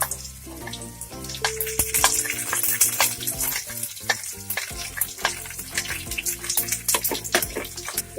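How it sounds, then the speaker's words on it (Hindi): Onions and green chillies fry loudly in oil in a frying pan, a dense crackling sizzle punctuated by frequent clatters and scrapes of stirring. "इसको तब तक फ्राई करेंगे जब तक ये हल्की नरम नहीं हो जाए"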